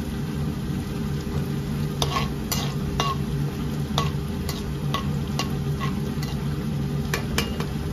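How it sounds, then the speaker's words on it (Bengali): Cumin seeds and bay leaves fry in hot oil, the same oil used for frying fish head and potatoes, with a steady sizzle and occasional stirring clicks and spoon taps throughout. "জিরাটা ভাজা হয়ে গেছে"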